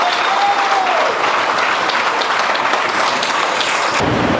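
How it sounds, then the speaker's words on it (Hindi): Loud, continuous applause from a large audience at a motivational seminar, dense clapping that holds steady and then shifts abruptly near the end. "सर, एक बार जोरदार तालियां हो जाए।"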